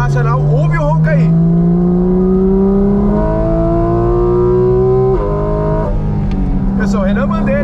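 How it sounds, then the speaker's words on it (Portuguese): A Porsche 718 Cayman GT4 RS engine roars loudly, its pitch climbing through two quick gear changes with a brief lift near the end, heard up close with talking over it. "Carro realmente irracional, ouve o ronco aí."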